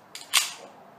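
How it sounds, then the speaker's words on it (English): Elite Force Umarex 1911 A1 CO2 gas blowback pistol fired once, a sharp crack with the slide cycling, preceded by a brief click. "when you shoot, the slide will cycle just like a real pistol would"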